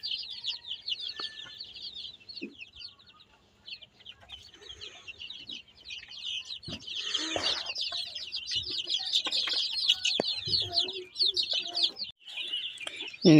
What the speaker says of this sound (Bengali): এই পাশে বড় মুরগির বাচ্চাগুলো আছে